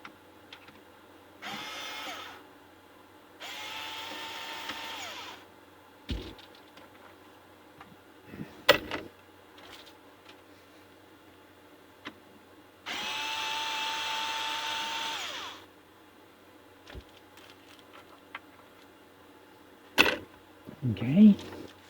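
Bottom screws being backed out of a Philco cathedral radio laid on its face, heard as several separate bursts of a power screwdriver whirring close by, with clicks and handling knocks between them.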